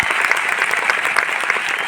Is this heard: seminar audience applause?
yes